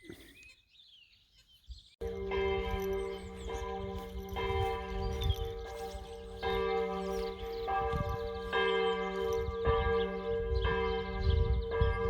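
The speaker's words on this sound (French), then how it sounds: "Là, il est midi, les cloches sonnent." Church bells ring out loudly and repeatedly at noon after a quiet start, their overlapping tones layered with faint birdsong in the background.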